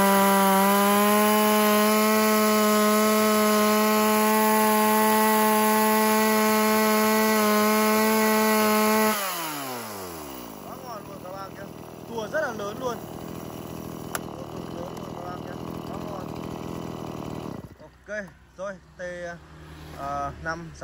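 A used Japanese two-stroke T5 chainsaw idles with a steady, buzzing drone for about nine seconds, then winds down as the engine cuts off, leaving scattered handling noises and clatter.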